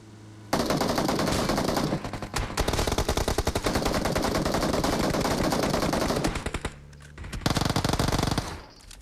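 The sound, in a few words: gunfire in PUBG Mobile video game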